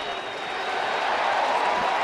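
Baseball stadium crowd applauding and on its feet during a game with Cleveland at Charlotte, a brief, steady wash of clapping and crowd noise.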